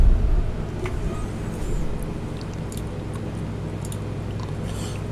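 Race cars in a sim racing game at Kansas, a steady low engine drone from the field running throughout, fairly even in level, with a brief louder burst right at the end.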